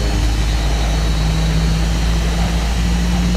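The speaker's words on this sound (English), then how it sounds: "I installed version 2 of the sound pack from Blue Sky for this aircraft" A steady, loud drone of JARDesign A320 jet engines from the Blue Sky sound pack in the X-Plane flight simulator, a constant low rumble with a faint whine, no talk over it.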